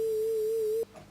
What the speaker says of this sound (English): So we have our sine wave,